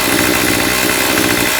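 A gas string trimmer idles steadily close by, its small two-stroke engine holding an even, buzzing rumble throughout with no voices.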